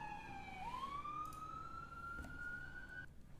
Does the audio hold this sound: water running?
no